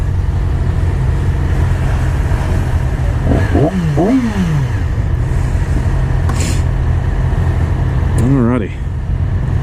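A 2016 Yamaha R6 Super Sport motorcycle runs with a loud, steady engine drone throughout, with two rising-and-falling rev swells, the second near the end, and a brief spoken word over it.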